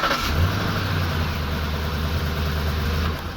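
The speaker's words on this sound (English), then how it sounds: "Then start your car." A car engine turns over and catches after a jump starter is clamped on, then settles into a steady, close idle that drops off slightly at the end.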